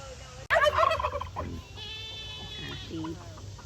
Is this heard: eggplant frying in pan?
no